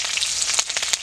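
Chopped onions, slit green chilies, dried red chilies, bay leaves and whole cumin sizzle in hot oil in a wok, a steady, close, bright crackle with small spitting pops and no talk.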